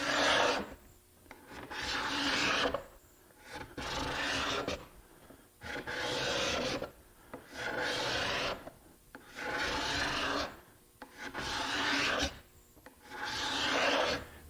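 A cabinet card scraper pushed across a wooden board in steady repeated strokes, each a rasping scrape of about a second with short pauses between, close and fairly quiet with no talk.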